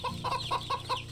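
Chickens cluck in short repeated bursts, four or five close, bright calls in quick rhythm, in the video game Wytchwood with no talk over them.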